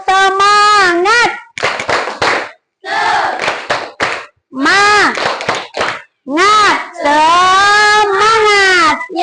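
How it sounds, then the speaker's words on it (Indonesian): A school class of children, in an Islamic religious education lesson, shouts a loud spirited chant with rhythmic clapping. The voices come in energetic bursts with short pauses between phrases. "Kita tepuk semangat."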